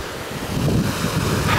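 Sea waves roll in on the beach at Alanya under strong gusting wind, a loud, continuous wash of surf and wind rumble with no voices.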